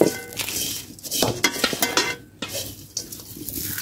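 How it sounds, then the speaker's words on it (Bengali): Mace and nutmeg are dry-fried in a pan while being stirred quickly, producing a rapid run of scraping, clinking strokes with a light sizzle beneath, close and fairly loud, no speech. "বেশি লেট করা যাবে না, খুব দ্রুত নাড়াচাড়া করতে হবে।"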